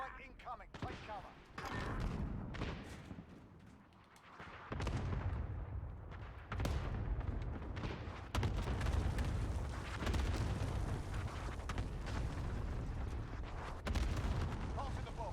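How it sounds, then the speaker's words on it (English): Cluster strike explosions in a Call of Duty match, heavy booming blasts and rumbling impacts layered over continuous gunfire and chaotic battle noise, loud and dense throughout with voices mixed in. "Enemy cluster strike incoming."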